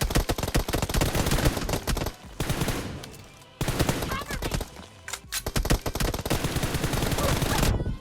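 Dense bursts of automatic gunfire from PUBG Mobile, rapid rattling volleys that stop and restart, loud and close, with occasional talk from players mixed in.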